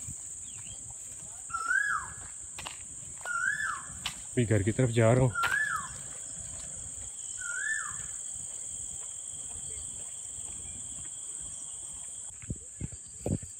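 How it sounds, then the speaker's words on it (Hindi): An Asian koel calls four times from a short distance, clear rising whistled notes spaced a couple of seconds apart, over a constant high cricket drone, with someone speaking briefly in the middle. "कोयल की आवाज़ सुनेगी, मीठी आवाज़ है माशाल्लाह।"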